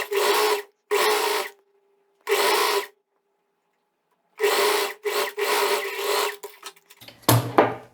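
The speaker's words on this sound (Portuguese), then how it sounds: "vou passar uma costura aqui nessa parte de cima, nessa curva aqui de cima" A sewing machine stitches a curved seam on a pair of shorts in several short runs separated by silent pauses. The whirring bursts are close and clear, ending in a quicker, busier stretch.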